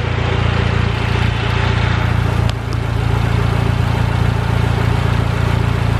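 A Honda engine with decapped fuel injectors idles smoothly and steadily. The low rumble is loud and close, with an even rhythm and one brief dip partway through. Nobody speaks.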